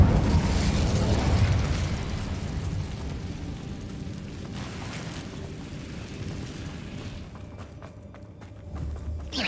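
An Incendio fire spell blast in Hogwarts Legacy, a loud, close, roaring burst of fire at the start that slowly fades into a rumbling crackle, with a few faint clicks near the end and no talking.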